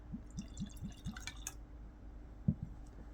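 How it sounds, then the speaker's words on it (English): Havana Club 3 year old añejo rum pours from the bottle in a series of soft glugs and drips, about five quick glugs early on and a sharper splash later, close and fairly quiet with no talking. "Let's pour it out."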